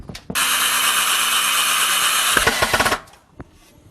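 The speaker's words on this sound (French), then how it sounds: "on les enquille dans chaque cheville indépendamment avant de les serrer" Screws being driven and tightened into wall plugs while building a cupboard under a staircase: a loud, steady mechanical whir that runs for about two and a half seconds, then breaks into a few sharp ratcheting clicks before stopping.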